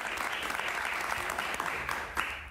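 Steady, dense applause from a studio audience during a Spanish-language TV interview with a singer, sustained and fairly even throughout.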